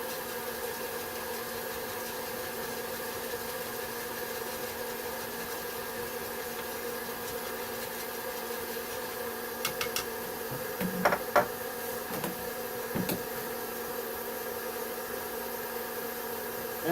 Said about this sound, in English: the popcorn popper is it's got that hot air blowing, so it's going to blow that chaff right off there